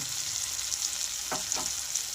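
Onions and tomatoes frying in a pan with a steady hiss and sizzle throughout, plus a couple of brief stirring scrapes near the middle, close and fairly quiet, with no talk.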